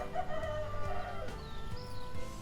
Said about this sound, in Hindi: इसके अलावा 2 असील मुर्गे और हैं